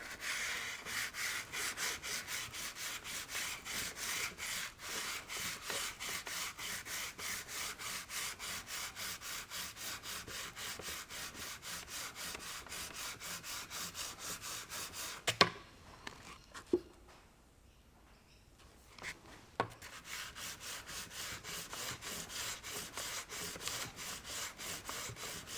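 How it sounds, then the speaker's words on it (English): Sandpaper wrapped on a file scrubs rust from a boat motor's pump shaft in steady, fast back-and-forth strokes, close and even for about fifteen seconds before stopping, with a few faint knocks and shuffles afterward. "a little bit of sandpaper on the file"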